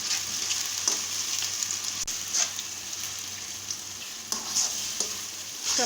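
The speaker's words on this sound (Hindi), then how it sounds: "अब ये चम्मच को हिलाते रहना है।" Makhandi halwa is stirred with a spoon in a hot pan, a continuous close sizzle with repeated scraping strokes and a few sharper spoon knocks against the pan.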